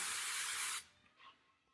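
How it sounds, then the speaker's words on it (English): Super-hold hairspray hissing steadily from an aerosol can onto hair for a late-80s, early-90s style; one close, loud, continuous burst that stops abruptly, then only faint room sound. "just continue to spray"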